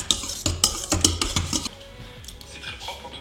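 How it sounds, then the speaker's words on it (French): Eggs being beaten in a bowl during home cooking, with a fast rhythmic clatter of utensil against the bowl at first that softens into quieter whisking, close and without talk. "Faut battre les œufs."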